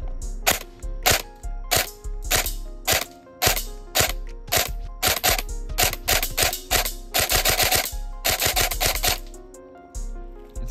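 An airsoft gun fitted with a weaker spring fires a rapid series of sharp, snappy close shots, some in quick bursts, each crack followed by a brief rattle, with no voices.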